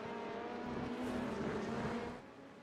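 A race car in a 24-hour endurance race roars past at a steady high pitch. The engine tone holds for about two seconds, then falls away. The sound is faint and distant, with no voices over it.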